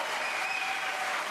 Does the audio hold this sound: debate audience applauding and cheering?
yes